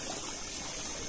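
Water pours steadily into a home swimming pool, a constant close rushing and splashing flow with no talk.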